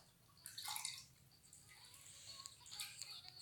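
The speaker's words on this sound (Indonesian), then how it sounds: "Kita cuci tangan dulu." Running water splashing and dripping over hands at a sink, in quiet irregular bursts with brief patters and no talk.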